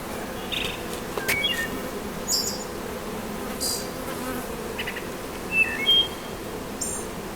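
Honeybees buzzing in a steady, close hum around a queen and a three-pound package of bees, with a few brief louder passes as individual bees fly near; no one speaks.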